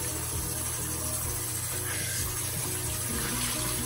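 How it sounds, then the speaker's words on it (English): Water runs steadily from a faucet into a bathroom sink while a washcloth is rinsed out, a continuous close hiss and splash with no pauses. "when I just rinsed out the washcloth"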